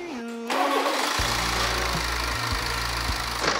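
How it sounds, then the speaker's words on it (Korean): A BMW 5 Series engine with badly degraded oil cranks briefly with a whine, then catches and settles into a steady low idle, close by and fairly loud. "시동 잘 걸려."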